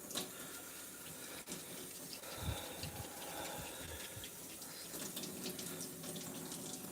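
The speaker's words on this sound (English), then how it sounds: "You need the water running" Water runs steadily from a tap while a nitro RC engine is being washed and cleaned, a continuous hissing splash with small shifts as the flow hits objects, close and fairly quiet.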